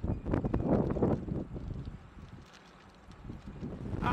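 Strong wind buffets the microphone of a cyclist on an Orbea Gain e-bike riding up a climb, a loud gusty roar that eases in the middle and then swells again.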